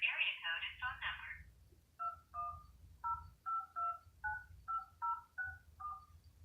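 Telephone keypad tones punch in a phone number on an automated phone line: a short voice opens, then about a dozen crisp, evenly spaced beeps follow in a steady sequence, clear and close.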